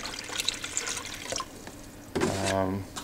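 Bottled spring water poured into a kettle: dripping and trickling first, then a short gurgling pour with a rising pitch as the vessel fills.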